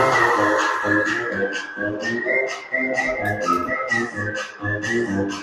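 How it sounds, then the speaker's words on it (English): A referee's whistle at a youth 12U AA ice hockey game gives a sustained shrill tone across the rink, heard over steady arena crowd noise and scattered voices. "We get a whistle."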